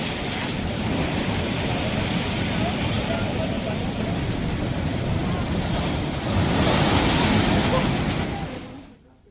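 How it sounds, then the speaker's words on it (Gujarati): Rough sea waves at Dwarka surge and roar under strong wind noise, a steady heavy wash that swells louder near the end before cutting off. "દ્વારકાનો દરિયો ગાંડોતુર બન્યો હોય"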